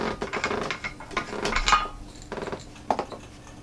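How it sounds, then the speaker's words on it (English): The plastic water tank of a Rowenta DG5030 steam station is unscrewed by hand, giving a close series of short plastic clicks, creaks and scraping rattles. "This is the tank, so you would unscrew it here."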